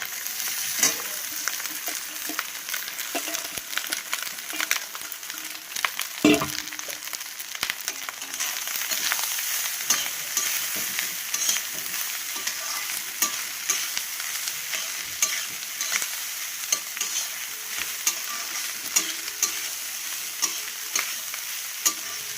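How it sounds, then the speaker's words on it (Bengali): Leftover rice frying in a hot pan, a steady close sizzle running throughout with scattered scraping and clicking stirs, no voices. "দেখো এটা ভাজা হয়ে গেছে, এখন আমি ভাতটা দিয়ে দিলাম।"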